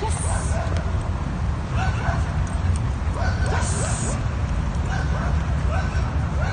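Reactive dogs bark and yip intermittently at a distance over steady outdoor noise and people talking, with a few whimpers mixed in.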